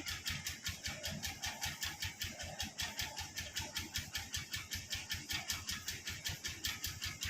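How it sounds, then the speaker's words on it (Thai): A small single-cylinder water pump engine chugs in a fast, regular putter, each beat distinct and even, running steadily close by. "อันนี้นะคะเป็น เครื่องปั๊มน้ำค่ะ"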